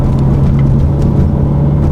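Cabin rumble of a 2022 Subaru WRX with KW V3 coilovers and Cusco rear control arms rolling over bumps, a loud, steady low drone and road noise with no talk.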